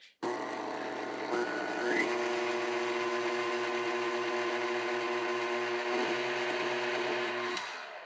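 A food processor whirs steadily for a few seconds as it briefly mixes Käsespätzle dough ingredients in a lidded bowl, a continuous close motor hum with a small rise in pitch near the start, cutting off at the end.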